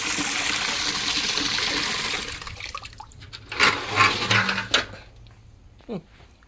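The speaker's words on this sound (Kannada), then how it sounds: "ಇನ್ನು ಅದಕ್ಕೆ ಕುಡಿಲಿಕ್ಕೆ ನೀರಿಡ್ತೇನೆ" Water gushes and splashes loudly for a couple of seconds into a cow's drinking vessel in a cattle shed, then stops, followed by a few clanks of the metal vessel.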